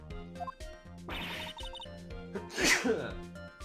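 A cartoon sneeze from an animated courtroom game character, one sharp burst over looping game music.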